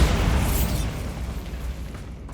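A Bombarda blast spell from Hogwarts Legacy goes off as one loud, close burst with a deep boom that rolls on and slowly fades.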